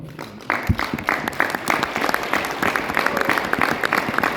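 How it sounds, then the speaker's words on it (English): Audience applause for Mr. Robert at a Riway star meeting in Poland, a dense burst of clapping that starts softly and swells after half a second, then holds steady and fairly close with no talking over it. "So can we give Mr. Robert a big round of applause?"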